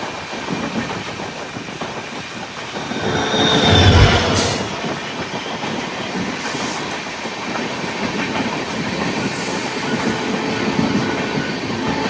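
A diesel-hauled LHB passenger train leaving Hospet, India, rolls steadily along with continuous wheel and carriage rumble, a brief louder surge of noise partway through, and faint high squeals.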